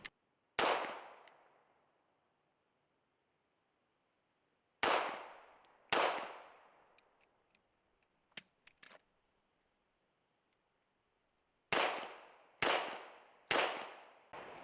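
Several sharp HK45 CT pistol shots ring out, each a loud crack with a decaying echo: a single shot, a pair, then a quick trio near the end, with faint clinks between.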